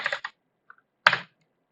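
Quick bursts of computer keyboard keystrokes as a git command is typed, close and crisp, with a short pause and a faint tap between two clusters of clicks in a quiet room.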